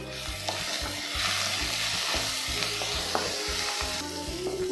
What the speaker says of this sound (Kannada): ಆನಿಯನ್ ಸಾಫ್ಟ್ ಆಗೋವರೆಗೂ ಚೆನ್ನಾಗಿ ಫ್ರೈ ಮಾಡ್ಕೋಬೇಕು.